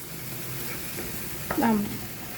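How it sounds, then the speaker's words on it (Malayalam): Eggplant curry in a pan being stirred after a pinch of sugar goes in, a soft scrape around 1.5 seconds over a low steady sizzle, close and quiet, with no talking. "എന്നിട്ട് ഒന്ന് ഇളക്കി കൊടുക്കാം"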